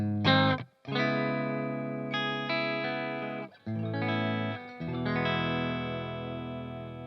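Clean electric guitar tones from a Guild Kim Thayil Polara played through a Fender Deluxe Reverb amp, sustained chords and ringing notes with short gaps between strums, close and fairly loud, with a touch of reverb.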